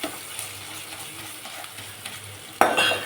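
Ginger garlic paste sizzles and fries steadily in a pan, a soft continuous hiss with light stirring scrapes, then a sudden louder burst of crackling sizzle near the end; no speech.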